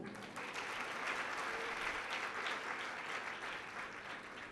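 An audience applauds at a Jain religious discourse given by a nun, a steady wash of clapping that runs evenly and fairly loud for the whole stretch with no voice over it.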